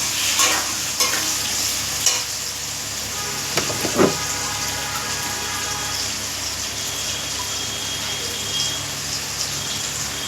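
Salted potatoes and tomatoes fry in a pan with a steady close sizzle, with a few sharp scraping clinks of stirring near the start.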